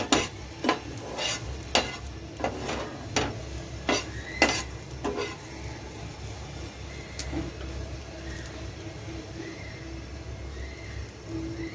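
Corn kernels roasting and being stirred on a clay pan, with sharp scraping and clinking strokes in an irregular rhythm over a steady low sizzle, louder at first and then settling into softer background crackle.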